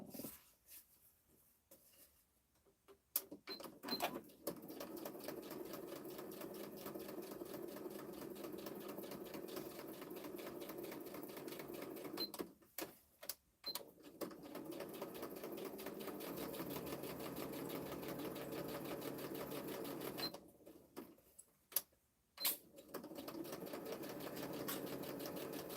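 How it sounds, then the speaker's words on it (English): A sewing machine stitches through paper for a gift bag, running close and steady in long whirring bursts with brief pauses in between. "if I stitch it there, it's going to be really loud because you are on top of the sewing machine"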